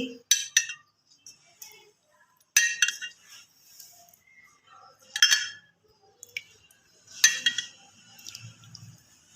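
Chopped potato, onion and spinach being mixed in a bowl, giving scattered clinks and scrapes of a utensil against the dish in irregular bursts, close and fairly quiet.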